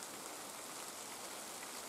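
Heavy rain pours in the taiga forest, a dense, steady hiss of drops with no pauses, filling the short stretch evenly and fairly faint.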